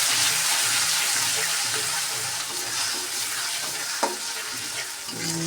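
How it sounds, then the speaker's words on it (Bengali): Onion paste and cumin paste fry together in a pan with a loud, close, continuous sizzle, broken by regular stirring strokes and a sharp clack near the end. "এর মধ্যে দিয়ে দেবো আমি পেঁয়াজ বাটা, তার সাথে জিরে বাটা একসাথে দিয়ে এখন আমি ভেজে নেব"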